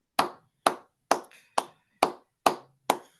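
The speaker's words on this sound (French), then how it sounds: "Alors, sous nos applaudissements, pour laisser à l'homme de Dieu la place" During a church worship service, seven sharp, evenly spaced hand claps ring out in a steady rhythm. They are close and crisp, with short reverberant tails between them.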